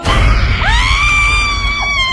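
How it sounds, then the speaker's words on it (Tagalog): Several people let out a loud, sustained scream of fright together, a long rising shriek that holds steady for about two seconds over a noisy background. "Ang galing nila sumigaw"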